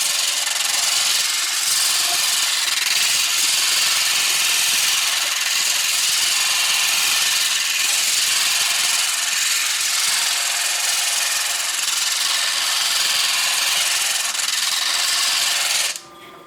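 A cabochon is pressed against a spinning diamond plate on an All-U-Need flat lap, producing a loud, continuous gritty rasp and hiss close by, unbroken for about sixteen seconds before it cuts off.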